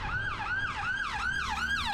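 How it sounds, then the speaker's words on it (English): An ambulance siren passes close by a Range Rover on the road, its wailing tone sweeping up and down about three times, loud and steady over low road rumble. "It's an ambulance, don't panic."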